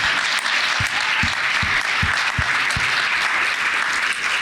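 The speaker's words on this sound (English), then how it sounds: "Give him another round of applause." Sustained audience applause at a CPAC 2020 conference session, a dense steady wash of many hands clapping with a few louder close claps punctuating it, no voices over it.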